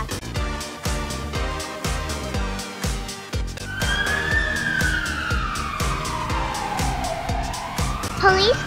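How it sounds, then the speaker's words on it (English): A police car siren wails in a long falling sweep and then climbs back up, riding over a steady, driving music beat. "Police car."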